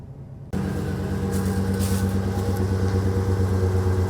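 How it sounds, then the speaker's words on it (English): An old, cheap pickup truck engine runs at a steady high idle, a loud close droning hum that starts abruptly and holds even with no voices. "High idle. Never seen that before."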